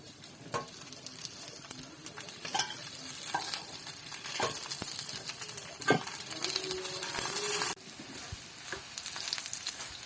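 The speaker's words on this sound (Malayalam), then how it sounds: "ഒരു പാൻ അടുപ്പത്ത് വെച്ച് അത് നന്നായിട്ട് ചൂടായിട്ടുണ്ട്. ഇനി നമുക്ക് കുറച്ച് ഓയിൽ ഒഴിച്ചിട്ട് നമുക്ക് അതിലിട്ട്" Chicken-filled pathiri frying in oil in a hot pan, giving a continuous close sizzle with occasional clicks and light scraping from the pan, and a brief louder hissing stretch before it settles back.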